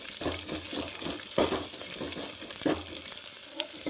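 Onions sizzling and frying in hot oil in a home kitchen pan, a steady crackling hiss with a few louder spits, close and continuous with no talking.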